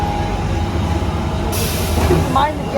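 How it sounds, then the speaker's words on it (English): A London Underground Central Line train arrives at Bond Street station with a rumbling roar, a sudden hiss of air rising midway and wheel squeals near the end, while people talk over it. "Here comes our Central Line train."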